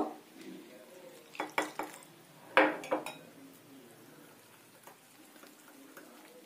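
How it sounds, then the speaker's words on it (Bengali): Gram flour (besan) being whisked with small splashes of water into a thick batter for jackfruit pakora, a spoon clinking and scraping against a bowl in several sharp bursts, then quieter stirring. "এবার বেসনটা অল্প অল্প জল দিয়ে গুলে নেব।"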